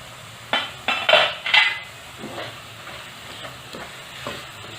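A spoon stirs sama (moraiya) khichdi with potatoes in a pot: a few loud scraping clinks against the metal, then softer stirring over a gentle sizzle.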